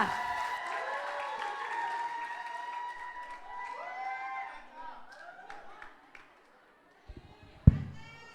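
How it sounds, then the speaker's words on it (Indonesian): A congregation applauds a neighbourhood head at a Christmas Eve church service, with steady clapping and a voice over it that fade after about six seconds into near silence, then a few final sharp claps. "beri tepuk tangan buat Pak RT kita"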